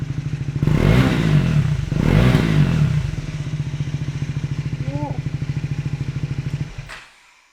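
A Triumph Scrambler 400X fitted with a Yoshimura GP-Magnum titanium exhaust is revved hard twice in quick surges, then settles into a fast, loud burbling idle before cutting off abruptly near the end.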